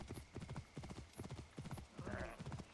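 Horse hooves clip-clop steadily in Assassin's Creed Origins, a quick rhythmic trot of muffled thuds, fairly close, with light background sound from the game.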